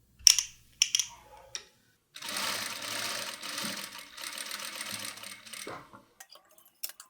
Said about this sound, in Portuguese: Vou para minha máquina reta, vou colocar o meu ponto no mais largo, que na minha máquina é o número 5, e vou passar uma costura